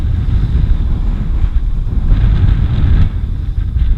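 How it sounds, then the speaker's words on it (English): Strong gusty trade wind buffets the microphone at Kite Beach on Maui during a kiteboarding session, a loud steady low roar with surging gusts and faint surf beneath, no talking. "Nice and gusty now."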